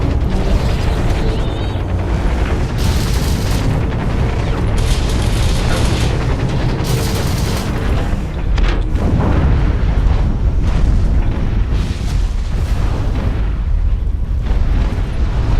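Rocket explosions in the mech shooter game Hawken, repeated loud booming blasts over a dense rumbling background of combat and machinery, with several sharp bursts throughout.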